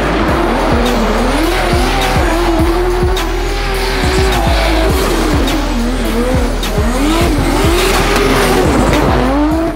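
A Nissan S15 drift car at a Drift Masters European Championship round in Płock squeals its tires in long sliding wails over a loud revving engine, with the pitch rising and falling as it drifts.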